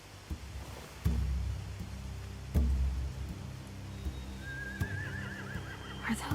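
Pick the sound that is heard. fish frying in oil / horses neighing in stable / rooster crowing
horses neighing in stable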